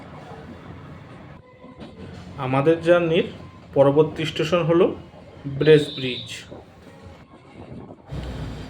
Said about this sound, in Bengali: এখন আমাদের ট্রেন মাঝেরহাট স্টেশন ছেড়ে বেরিয়ে যাচ্ছে